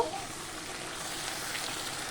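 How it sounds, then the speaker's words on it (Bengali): Chopped onion and ground spice paste frying slowly over a low gas flame in a pan, a steady close hiss of sizzling oil with faint stirring, no talking. "এই মশলাটা আমি গ্যাসটাকে লো ফ্লেমে দিয়ে খুব আস্তে আস্তে করে ভাজতে থাকবো"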